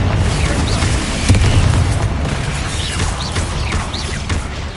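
Confringo spell blasts in the Hogwarts Legacy video game go off as heavy booming explosions in quick succession, loud and close, with sharp crackling bursts layered over a continuous rumble.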